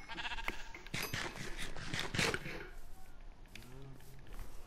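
Sheep bleat in PlayStation Minecraft: a short rising bleat near the end follows a stretch of in-game clatter and squishy steps, moderately loud.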